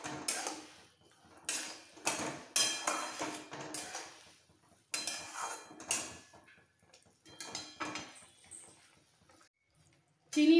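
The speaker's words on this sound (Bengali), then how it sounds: "এবার একটু মিক্সড করে ফেলবো।" A spoon stirring plum chutney in a cooking pan with sugar added: irregular metallic scrapes and clinks come in short bunches with quiet gaps between them, close and fairly soft.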